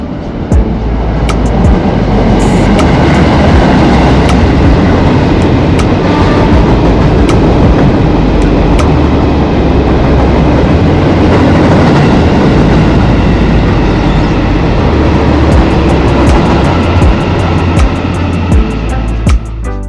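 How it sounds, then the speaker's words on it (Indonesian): The Argo Anjasmoro train from Jakarta Kota rolls into track 1 at a Cirebon station at night, a loud, steady rumble with rail clatter and rushing noise that carries on unbroken as the carriages pass along the platform. "Ini di jalur 1 masuk rangkaian kereta api Argo Anjasmoro dari Jakarta Kota"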